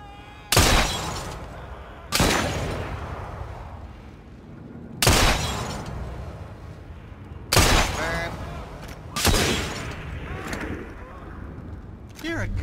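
Gunfire in the video game Assassin's Creed Syndicate: five loud, sharp shots spaced a couple of seconds apart, each ringing out before the next, with voices talking in between.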